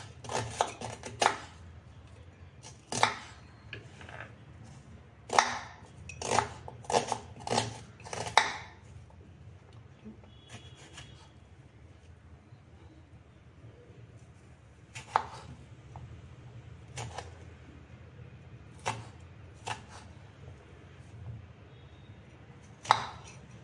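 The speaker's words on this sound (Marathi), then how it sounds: "मी ओबड-धोबड कांदे टोमॅटो कापून घेतलेले आहेत" A knife roughly chops onions and tomatoes on a board while a village-style misal is prepared: quick bursts of sharp, close thuds, a fast cluster at first and then scattered single cuts with pauses between them.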